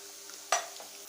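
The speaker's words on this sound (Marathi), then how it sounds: "पुन्हा परतून घेऊया" Onion with turmeric, chili and garam masala is sautéed in a pan for stuffed brinjal. A soft sizzle runs under a single sharp scrape of a spoon, which is brief and close.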